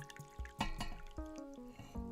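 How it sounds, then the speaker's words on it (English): A drink is poured into a glass close by, a short burst of liquid splashing and gurgling with rising tones as it fills, followed by a few drips, quiet with no talking. "Let me pour some more drink."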